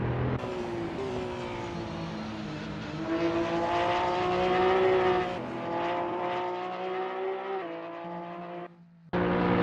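Race car engines from an Assetto Corsa online race featuring Porsche 911 GT3R cars drone loudly with rising and falling revs and gear shifts, then cut out briefly near the end before roaring back.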